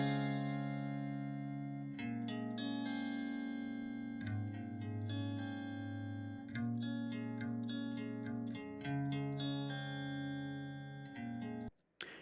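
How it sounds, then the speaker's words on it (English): Clean Stratocaster electric guitar played through an amp plays sustained chords and single notes, bright and ringing, with a soft springy reverb tail; ends with a brief click. "I'm just recording a Stratocaster guitar clean through an amp"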